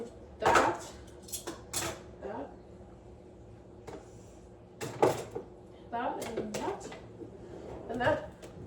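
Kitchen utensils such as spatulas, a whisk and tongs are set into a drawer while a dishwasher is being unloaded, giving a few close clattering knocks and rattles in short bursts, with quiet talk in between.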